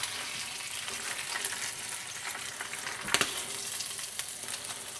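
Bacon frying in a pan: a steady close sizzle and spatter throughout, with a brief sharper clatter just past the three-second mark and no talk.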